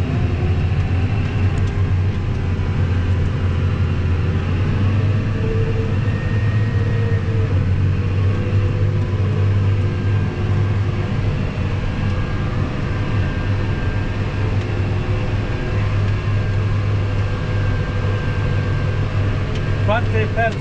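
A Case IH 400 tracked tractor ploughs a field in the Cremona countryside at Motta Baluffi, its engine holding a loud, steady, deep drone throughout with continuous mechanical hum, and voices talking over it.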